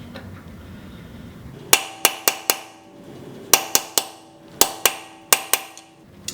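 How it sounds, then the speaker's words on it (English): Metal extension hammered against a broken car wheel stud: crisp, ringing metallic strikes in four quick bursts of three to four blows each, loud and close, each hit leaving a short clanging ring. "I'm gonna place it on the front of the stud, and I'm just gonna hammer it a couple times"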